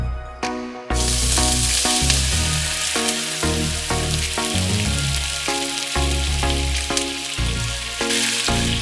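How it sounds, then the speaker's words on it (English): Sauce for Chinese-style baked back ribs reduces in a non-stick pan, a dense continuous sizzle and bubbling hiss, steady and close, with a brief quieter moment at the very start. "sauce in a non-stick pan and let it reduce until it's nice and thick"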